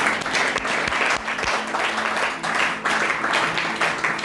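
Audience applause fills a church service, loud, steady clapping from a crowd that swells and dips in waves without a break.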